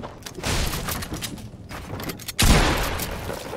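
Gunfire in a multiplayer shooter video game bursts out in rapid volleys, with a louder boom near the middle and continuous loud, crackling shots throughout.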